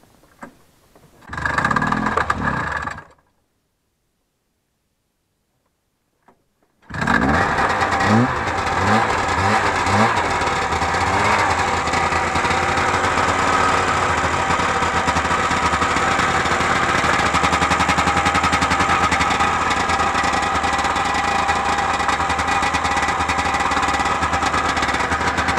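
A Rys snowmobile engine with an empty carburettor starts after a brief pull and some silence, then runs loud and close, rattling and revving roughly with a steady buzzing drone.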